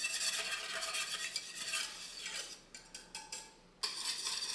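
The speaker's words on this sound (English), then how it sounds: "Giving that a good whisk so it's starting to thicken slightly" Polenta thickening in a pot is whisked vigorously, a fast scraping swish that runs steadily then breaks into several short separate strokes before resuming, close and fairly quiet with no voices.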